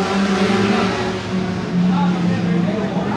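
A new-model Chevrolet Onix race car in the Brazilian Turismo 1.4 series runs on track during qualifying. Its engine drones loudly and steadily throughout, with a dense, continuous roar and no pauses.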